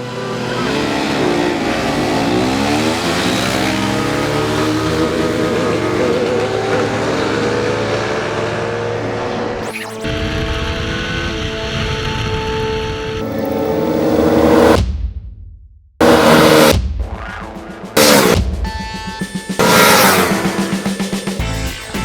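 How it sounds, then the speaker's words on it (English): KTM RC390, KTM Duke 390 and Kawasaki Ninja 300 motorcycles in a 500-meter drag race, engines droning steadily then cutting into sharp bursts of revving and gear changes, loud and close with brief gaps. "we did what we had to do next, an industry standard drag race over 500 meters"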